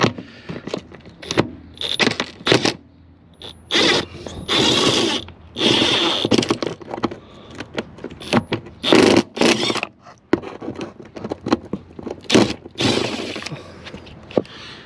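Metallic clicks, scrapes and ratcheting bursts come from pulling two 10mm bolts at the front of a Ford Bronco Sport during an evap canister replacement, switching to a deep socket; the sounds come in close, irregular bursts with no talking.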